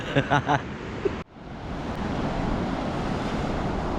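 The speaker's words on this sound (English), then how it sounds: "Watching the waves crash is as mesmerizing as sitting around watching a campfire." Ocean surf washes steadily onto the Galveston Island beach at night on the Texas Gulf Coast, a broad continuous roar with wind across the microphone after a brief voice at the start.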